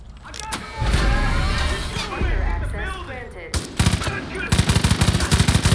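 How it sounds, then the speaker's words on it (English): Bursts of machine-gun fire in the Far Cry 5 shooter game, choppy rapid shots in short volleys that grow into a fast rhythmic burst at the end, with game noise and talk underneath. "Why is my gun still on burst fire?"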